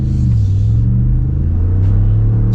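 A 2020 Ford F-150 Lariat with a 10-speed automatic pulls away from the line, its engine a loud, close, steady low rumble that rises in pitch as it accelerates, no talking.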